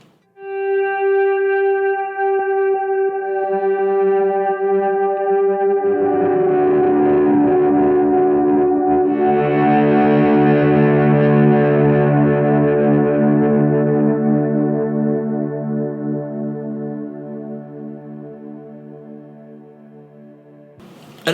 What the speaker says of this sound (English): You can kind of hear that overdrive breakup on the actual swells